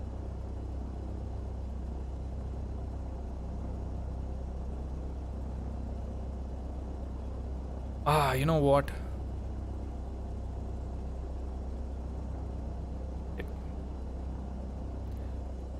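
General aviation light aircraft engine idling in a flight simulator, a steady low droning rumble that holds constant throughout, with a brief spoken remark partway through.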